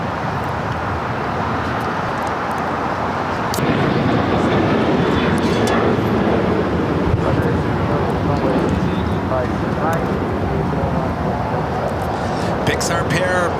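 A Boeing 737-800 jet taking off at LAX, a broad, loud roar that swells partway through and holds steady, with people talking over it.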